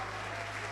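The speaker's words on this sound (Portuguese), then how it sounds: "E os que creem e esperam, aplaudam a Ele." Worshippers at a Portuguese-language church conference applaud in a continuous, even wash of many hands clapping at once, sustained without a break.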